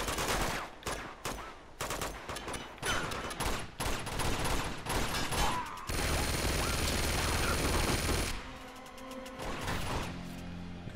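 Dense gunfire from the Uncharted 2: Among Thieves video game, with rapid rifle bursts and single shots up close followed by a sustained roar of automatic fire.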